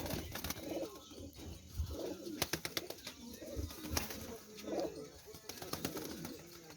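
Domestic flying pigeons coo in repeated low, throaty rolls close by, with wing flutters and faint clatter around them.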